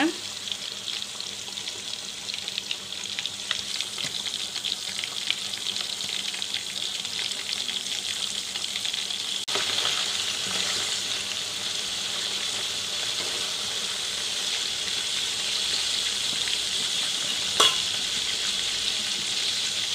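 Beef pakoda frying in hot oil over a medium flame, a steady bright sizzle and crackle running continuously throughout, with a few sharper pops along the way.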